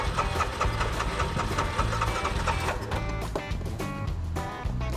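A Toyota 4Runner engine cranking after sitting, with a steady rapid mechanical churning of the starter that runs continuously and shifts slightly in tone partway through, loud and close.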